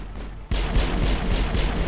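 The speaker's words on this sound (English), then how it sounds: "Someone's shooting." Gunfire in the Mass Effect video game erupts after a brief quiet lead-in, a dense rapid burst of loud repeated shots continuing without pause to the end.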